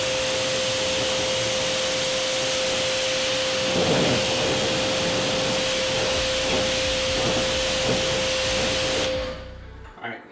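Tire cleaner sprayed onto a car wheel, a continuous close, loud hiss of spray lasting about nine seconds before cutting off abruptly, with a faint steady tone underneath.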